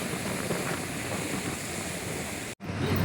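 Sea waves wash and splash onto the shore in a steady, loud roar of surf with wind buffeting the microphone, briefly cutting out near the end before the rushing water returns.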